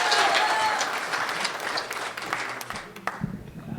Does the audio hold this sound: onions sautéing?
no